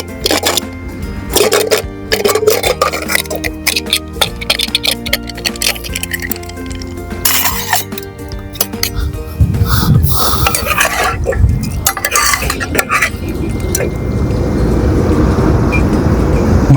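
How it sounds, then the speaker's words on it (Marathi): A pressure cooker holding cooked mutton curry is unlatched and opened, with close metallic clanks, lid rattles and scraping knocks coming in irregular bursts over a low background hum. "आपण आता कुकर ओपन करूया"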